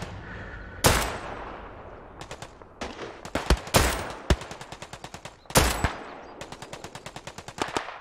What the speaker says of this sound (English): I just got swacked by a gun run